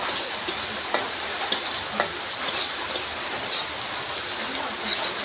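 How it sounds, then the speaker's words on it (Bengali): Onions frying in a pan during home cooking of an egg dish, a steady bright sizzle running throughout with small crackles and occasional stirring clinks, close and fairly loud, with no talking. "পেঁয়াজ ছেড়ে দিয়েছি, পেঁয়াজটা ভেজে নেবো।"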